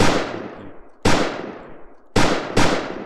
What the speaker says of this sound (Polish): Teraz widzimy, że jak strzelam cały czas, to trafiam zawsze.